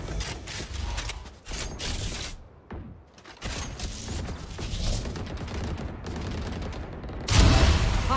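Gunfire and mechanical weapon handling from the Prelude to Chaos Vandal rifle in Valorant, with bursts of clicking, ratcheting action and sharp shots layered with game effects, ending in a louder blast near the close.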